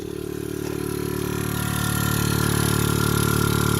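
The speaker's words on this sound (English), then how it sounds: "So number 2 turns the compressor on." A Viair 480 onboard air compressor, rated to 200 psi and feeding a 2-gallon tank, switched on aboard a Ford F550 truck: a steady electric motor hum whose level rises over the first two seconds and then holds, with no talk.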